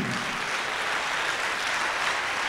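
A church congregation applauding during a French-language sermon, dense sustained clapping from many hands that fills the room evenly without a break.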